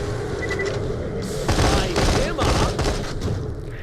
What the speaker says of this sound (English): this is Major Tom, and it's basically this game's equivalent of Farouk